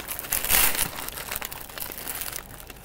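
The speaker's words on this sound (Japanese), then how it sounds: "ガサガサちょっとうるさいかもしれないよ" Plastic bread bag crinkling and rustling at close range, with a loud burst of crackling early on that settles into softer, intermittent crinkles while a curry bread roll from a bakery is unwrapped for lunch.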